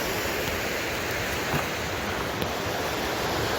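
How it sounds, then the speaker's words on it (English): A river running high below a hiking footbridge on the trail to Lester Creek, a dense, steady rush of water that fills the whole clip with no voices. "the river down there putting out a lot of water today"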